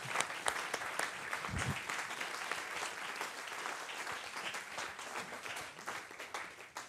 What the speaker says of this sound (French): Je pense qu'on peut applaudir encore Isabelle.